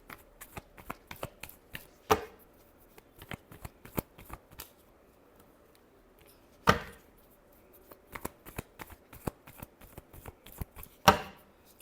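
Tarot cards being shuffled by hand, quiet riffling ticks with three sharper slapping bursts spaced a few seconds apart, close and alone.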